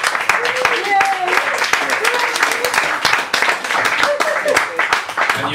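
Sustained clapping from an audience at a poetry event, applauding a band, a steady crowded patter with voices talking underneath, holding at an even level to the end.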